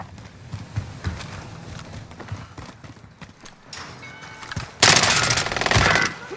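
Gunfire from Call of Duty: Modern Warfare crackles in scattered shots, then a loud, sustained burst of rapid automatic fire erupts near the end, with brief talk mixed in.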